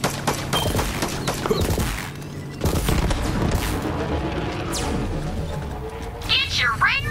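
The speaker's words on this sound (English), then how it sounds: "Vehicle got destroyed by someone." A vehicle destroyed in Borderlands 3, with booming blasts and rapid gunfire over rumbling game noise, someone talking over it, and a rising whine near the end.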